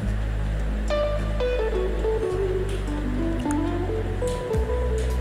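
Corn pakoda dough of flour, rice flour and fennel is kneaded by hand without water, making close, continuous squishing and sticky slapping sounds with intermittent tonal squeaks over a steady low hum, with no speech.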